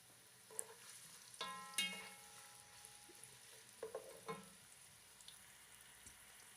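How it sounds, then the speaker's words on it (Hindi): Onions frying in a cup of cooking oil over a medium flame, a faint steady sizzle with a few soft clinks and scrapes of stirring, heard alone without talking. "दो से 3 मिनट हमने प्याज को फ्राई कर लिया है"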